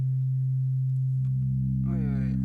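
A steady pure sine tone from the Phase Plant synth drones low, then thickens into a buzzier FM-modulated timbre with shifting upper partials, while a voice briefly speaks over it.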